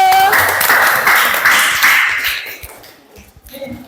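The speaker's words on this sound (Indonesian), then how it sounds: "tepuk tangan dulu" Brief burst of classroom applause after a group presentation on poetry analysis, a close ragged patter of hands that fades out within a few seconds, with faint voices afterward.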